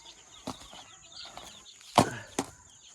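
Young chicks being fed grain, with a few short, close clucking and pecking sounds scattered over a quiet background, two sharper bursts standing out near the end.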